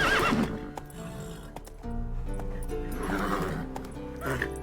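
Roach, Geralt's horse in The Witcher 3 video game, gives a sharp whinny at the start, followed by steady galloping hoofbeats with game music underneath.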